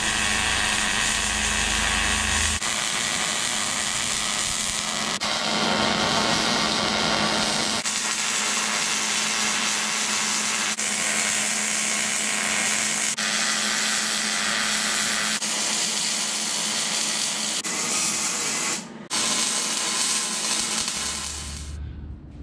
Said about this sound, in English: Let's go ahead and start welding up this truss to the tube.